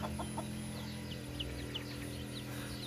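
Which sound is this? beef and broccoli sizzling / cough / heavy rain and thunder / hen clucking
hen clucking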